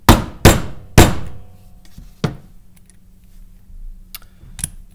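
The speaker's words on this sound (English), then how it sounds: "put your primer extractor down into the shell casing. Then just give it a little tap" Primer extractor tapped into a spent shell casing for ammunition reloading: three sharp, loud hammer taps in quick succession, then a few fainter knocks and clicks, close up with no talking.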